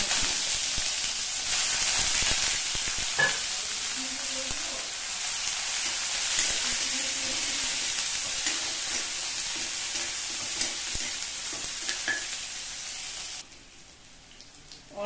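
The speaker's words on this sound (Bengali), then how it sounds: "ওই তেলে এক চামচ গোটা জিরে দিলাম" Whole cumin seeds sizzle in hot oil for a mashed potato dish, a steady broadband frying hiss with occasional stirring clinks, fairly close and continuous before it quietens near the end.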